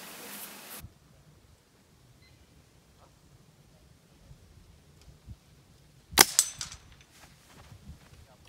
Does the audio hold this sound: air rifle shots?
yes